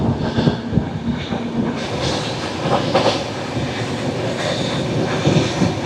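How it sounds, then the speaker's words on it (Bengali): The Kamrup Express pulls out of Dhupguri station on a cold day, a steady close rumble of rolling wagons with faint clickety-clack and no voices. "5 মিনিট হল্টের পর আমাদের ট্রেন কিন্তু ছেড়ে বেরোচ্ছে।"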